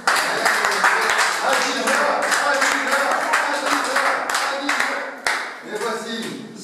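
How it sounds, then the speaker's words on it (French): Sustained audience clapping and applause greets a young slam poet at a youth spoken-word event, steady and fairly loud throughout, with a few sharper claps standing out and voices murmuring beneath it. "Elle s'appelle Adija, elle va se lever et nous allons l'applaudir."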